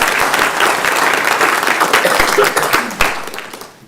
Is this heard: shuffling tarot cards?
no